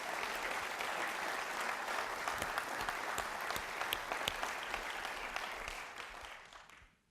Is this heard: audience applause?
yes